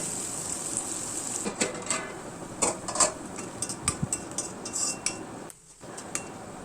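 Onions and green chilies stirred in a pan, with repeated metal spoon scrapes and clinks against the pan over a faint background sizzle, close and irregular.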